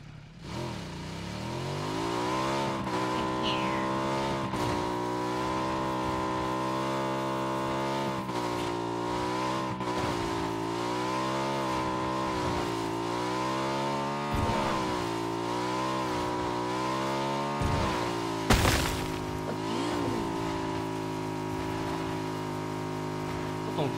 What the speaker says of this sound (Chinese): 总听到旁边好像还有摩托车